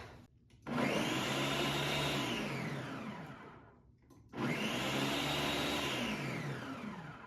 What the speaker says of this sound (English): We'll blend it a few times.